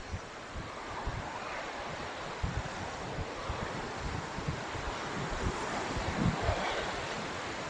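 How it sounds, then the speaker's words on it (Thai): Strong wind gusting over the sea at Bang Saen beach, a continuous rough roar of wind and surf with heavy buffeting against the microphone, loud and steady throughout. "ว่าจะลมค่อนข้างจะแรงมากเลย"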